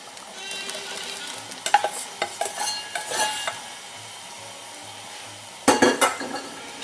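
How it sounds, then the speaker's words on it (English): A spoon stirs soup with diced potatoes in a pot for chicken and roasted corn chowder, making clattering, scraping bursts that fall quiet and then return in a short final flurry. "Give that a quick stir."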